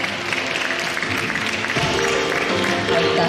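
Applause for a girls' gymnastics group at an awards ceremony, a steady wash of clapping from the crowd that holds at a fairly loud level for the whole stretch.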